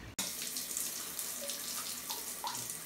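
Water runs steadily from a bathroom tap, a close, constant hiss and splash after a brief click at the start.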